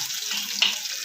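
Garlic frying lightly in a pan of oil while cooking black lentil dal: a steady, soft sizzle with a single brief metallic clink partway through and no talking.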